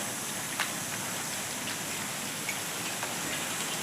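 Steady rain falls on a village, a constant even hiss with a few faint drips and ticks, no voices.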